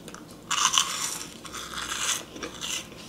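Someone bites into crunchy keto carnivore popcorn up close, giving a few crisp crackling crunches followed by softer chewing, with no talking.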